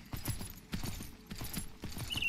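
Rhythmic hoofbeats of a horse in Myth of Empires clop in a steady gait, about eight light thuds over a couple of seconds, fairly faint and alone.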